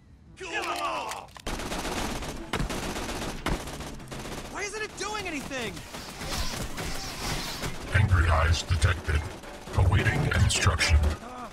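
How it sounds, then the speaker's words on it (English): Video game gunfire: dense automatic volleys and sharp shots rattle in sustained bursts, with heavier booming impacts toward the end, while voices talk over the action. "Please stop shooting me."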